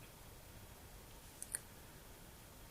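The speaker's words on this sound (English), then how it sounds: "Again clicking OK." Two quick, faint computer mouse clicks sound close together in a quiet room while working in SolidWorks, the second slightly louder, with no speech.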